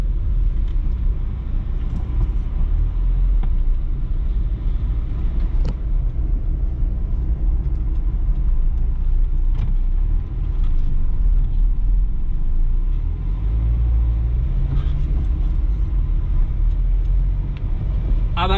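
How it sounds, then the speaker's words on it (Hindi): A Renault Duster driving off-road gives a loud, steady low rumble of engine and tyres from inside the cabin, with faint bumps and rattles and no break in the drone. "तो ये इसकी आउटपुट क्वालिटी मैंने आपको दिखा दी कि ऑफ रोडिंग के मामले में कैसी है डस्टर।"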